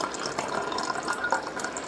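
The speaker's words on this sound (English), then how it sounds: "Let me mix these waters up." Water being stirred and mixed in a container, a steady sloshing, trickling wash that carries on close by with small splashy peaks and no voices.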